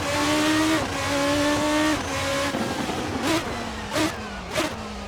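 A Praga R1 race car with a V8 engine howls around the Tsukuba circuit, revving hard through rising gear pulls with quick shifts, then easing as it brakes, loud and close from onboard.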